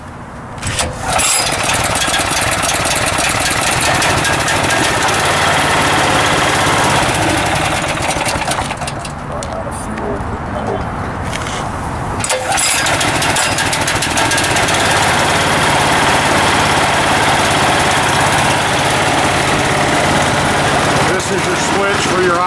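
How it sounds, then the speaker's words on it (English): A Graco 833 line striper's gas engine runs loud and steady as it warms up after starting, a constant rough drone with a brief dip midway. "Once that is started, allow the unit to warm up for a minute."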